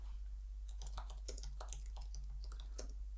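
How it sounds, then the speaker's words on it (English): Someone typing on a computer keyboard in a quick, irregular run of light clicks over a steady low hum. The sound is close but faint, and no one speaks. "I'm just going to type a little description here"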